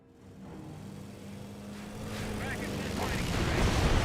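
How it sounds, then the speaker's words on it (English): Bombing-run explosions in Company of Heroes, a rising rumble of blasts and low booms that swells louder toward the end, with battlefield noise throughout. "We got a bombing run."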